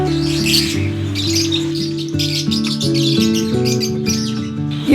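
African lovebirds and parakeets in a breeding aviary chirp and squawk, loud and close, with overlapping bright calls and tweets forming a busy, continuous chorus.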